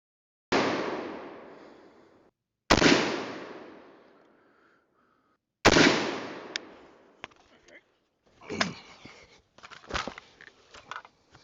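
An AR-15 rifle fires three loud, close shots at a range while being zeroed, each sharp crack followed by a long decaying echo, then softer clicks and handling noises.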